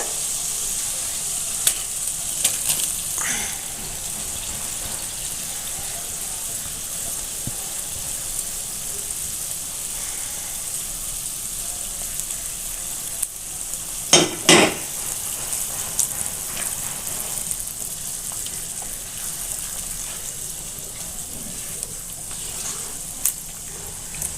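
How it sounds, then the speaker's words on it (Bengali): Fish added to boiling water for a mustard and poppy seed curry with Tangra-style fish bubbles and sizzles in a pan, a steady close hiss broken by a few sharp clattering bursts. "জলটা ফুটে উঠেছে এবার আমি মাছটা দিয়ে দেবো"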